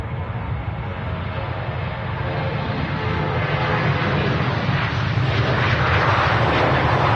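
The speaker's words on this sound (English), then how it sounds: "Ryanair on the takeoff roll here. Yeah, this is a 737-800 off to Oslo." A Ryanair Boeing 737-800 on its takeoff roll at Manchester Airport, a steady, loud jet engine roar that swells gradually over several seconds, broadband and continuous with no voices.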